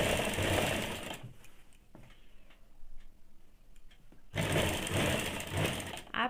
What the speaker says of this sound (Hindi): मशीन से सिलाई कर देना है।